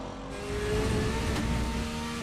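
Onboard a Wright Motorsports Porsche GT3R race car at COTA, a loud, steady engine drone with a tonal whine, close and continuous with no talking.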